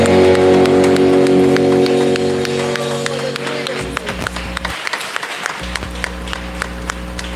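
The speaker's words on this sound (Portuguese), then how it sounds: "Aplauda, Senhor." Congregation applauding during a Portuguese-language evangelical church worship service, steady clapping under music that thins into sparser individual claps.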